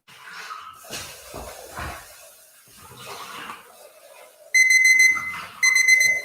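A kitchen-style timer alarm goes off in two loud bursts of rapid high beeping, the first about 1.3 s long and the second shorter, following a stretch of quiet background sounds.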